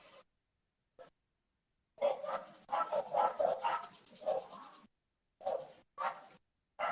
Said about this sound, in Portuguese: Os cachorros estão animados aí